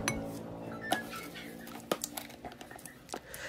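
Butter and brown sugar worked together in a mixing bowl, with soft close scraping and a few sharp clinks of the utensil against the bowl, quiet and irregular.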